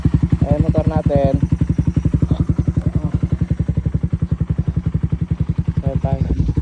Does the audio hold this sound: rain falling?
no